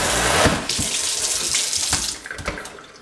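Water runs from a detachable sprayer into a stainless steel sink, a loud steady gushing splash that shifts in tone as the stream moves, heard alone without voices.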